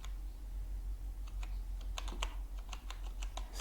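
Fingers tap out words on a computer keyboard while working in Microsoft Word, a quiet, fairly close run of light clicks in uneven bursts with soft background hiss and no talking.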